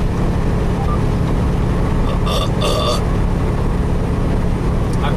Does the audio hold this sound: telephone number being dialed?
no